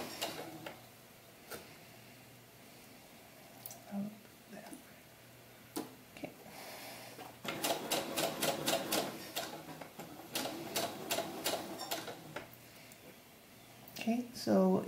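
Sewing machine stitches across doll slip fabric in short bursts of rapid mechanical ticking, separated by pauses, with a voice speaking quietly between runs.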